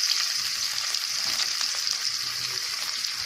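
Onions frying in a kadai previously used to fry fish give a loud, close, continuous sizzle, with a steady bright crackle and faint stirring taps underneath.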